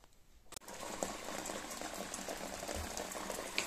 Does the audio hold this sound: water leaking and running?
yes